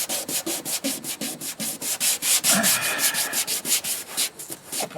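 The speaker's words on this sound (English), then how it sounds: "I'll just rough sand this a little bit to get it to bite." Rough sanding of Bondo body filler on a rusty Astro van dogleg repair: fast, rhythmic back-and-forth scrubbing strokes, close and fairly loud, with no talk.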